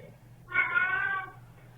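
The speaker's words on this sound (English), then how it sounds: "It's just a cat." A single drawn-out cat meow plays back from a recording. It is moderately loud and lasts under a second against a low background hum.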